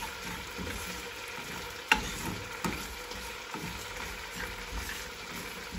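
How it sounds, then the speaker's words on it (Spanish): Food browning in a small dry pan without oil over low heat, stirred constantly, giving a soft steady scraping and faint crackle with a few sharper knocks of the utensil against the pan. "a dorar en un sartencito sin aceite. Solo dorarlo. A fuego bajo lo voy a estar moviendo constantemente"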